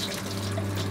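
Water running out of the bottom of a sailboat's heat exchanger into the bilge, a steady close hissing trickle with a low hum underneath, continuous and fairly loud.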